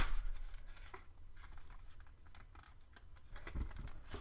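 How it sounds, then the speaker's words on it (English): Pokémon promo cards from an Emerging Powers blister pack being popped out of the plastic, a steady run of close crinkling, clicking plastic handling with a few sharper cracks near the end, no speech. "now you need to pop out our promo cards somehow"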